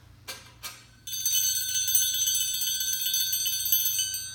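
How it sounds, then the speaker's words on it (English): Two quick metallic taps, then a bright bell rings out and sustains with a steady shimmering tone for several seconds, clear and close with no voices. "the bell comes out early this week as I have an upset special for you"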